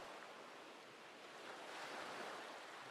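Ocean waves wash steadily in the distance, a continuous broad surf roar that swells slightly in the second half, heard alone without voices in an eerie horror radio drama setting.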